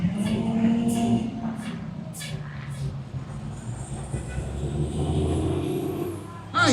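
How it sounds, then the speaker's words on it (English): Loud bursts of compressed air hiss and release repeatedly from the air brakes of a 2000 Orion 5 Suburban bus, with low engine rumble underneath and a sharp squeal near the end. "listen to those air brakes"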